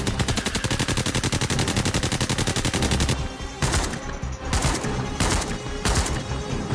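Gunfire in the VR shooter Into the Radius 2: a long, rapid automatic burst of evenly spaced shots, loud and close, followed by several separate single or short bursts with gaps between them.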